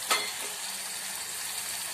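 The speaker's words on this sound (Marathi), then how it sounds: "थोडं आणखी सोडून घेऊया पाणी." Water hits a hot pan of spicy jackfruit curry masala with a sudden sharp sizzle, then settles into a steady, close frying hiss. No voices.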